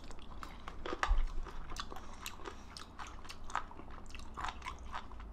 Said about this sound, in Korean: 해삼을 이렇게 실컷 먹기가 어렵지